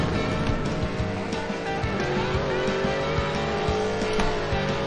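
Buggy cars race in the Beach Buggy Racing video game on a beach course, with steady loud engine drone, tire squeal and skidding across the whole stretch and no talk over it.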